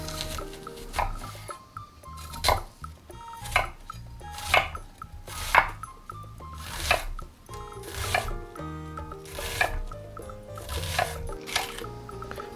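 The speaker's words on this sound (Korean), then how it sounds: "양파 반개를 볶음용으로 잘게 잘라주세요" A knife finely chops half an onion for stir-frying, each stroke knocking sharply on a cutting board in a steady, close series of crisp taps over soft background music.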